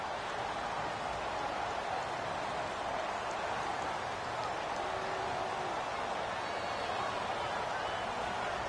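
Rain falling in an American football video game on PS4, a continuous soft hiss of downpour at low level behind the action.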